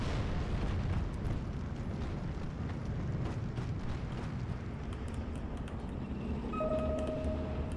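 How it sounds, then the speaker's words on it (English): Artillery explosions in the Steel Division 2 war game form a continuous low, rumbling roar with distant booms and bursts layered over battle ambience, moderately loud throughout. "Artillery is keeping these guys pinned down from making a successful advance right now"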